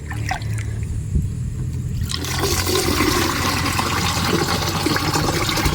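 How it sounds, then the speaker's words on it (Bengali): Water scooped and poured with a mug, a steady close rush and splash of moving water that swells after a quieter first couple of seconds, with no voices. "তো আমি জলটা তুলে নিই"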